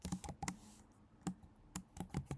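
Quick, quiet keystrokes on a computer keyboard come in short irregular clusters with brief pauses between them.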